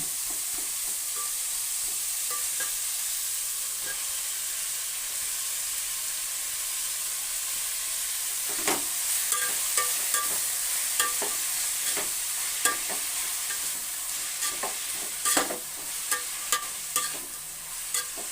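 Capsicum gravy with tomato sizzles and fries in a pan, a steady bright hiss with scattered sharp scrapes and clinks of stirring growing more frequent toward the end, no talk.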